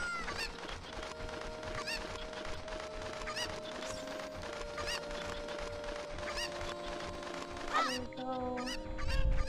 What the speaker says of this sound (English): They're so loud, these chickens.